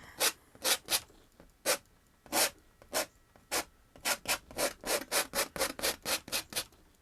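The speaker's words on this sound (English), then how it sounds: "So I'm taking this knife straight on and just giving it a scrape." A painting knife scrapes wet oil paint across canvas in repeated rasping strokes, slow and spaced at first, then quickening into a rapid regular series, close and clear without speech.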